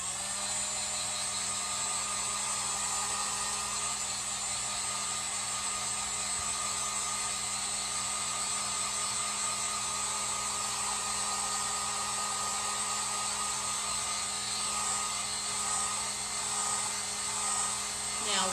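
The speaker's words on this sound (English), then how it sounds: "Now we got this heat gun from Harbor Freight." A Harbor Freight heat gun drying wet paint, a steady high-pitched blowing whine with a constant airy hum, running unbroken and close throughout.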